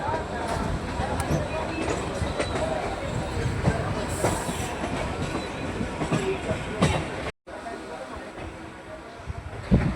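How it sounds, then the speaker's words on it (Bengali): A local train runs and curves right at Ballygunge junction with a continuous rumble and rattling wheel clatter, a few sharp knocks, a brief dropout near the end, then the rolling noise resumes. "আমাদের ট্রেন ডান দিকে বাঁক নিয়ে চলে যাচ্ছে বজবজের দিকে।"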